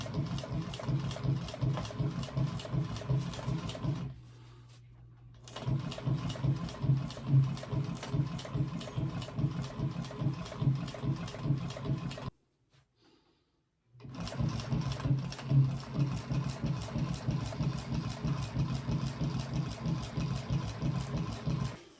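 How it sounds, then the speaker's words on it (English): A sewing machine runs steadily at close range, stitching straps onto a pack. It stops briefly twice and then starts again, and the stitches at the start of the seam are run back and forth. No one speaks. "I'm just doing a little back tacking at the beginning just to lock in my thread"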